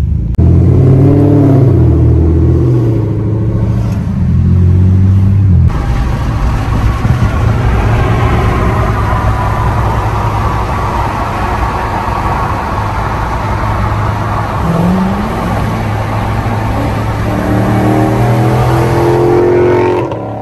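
A Dodge Charger 392 Scat Pack fitted with a full 3-inch MBRP exhaust rumbles loudly and steadily at close range for the whole stretch, its deep exhaust note swelling briefly near the start and again toward the end.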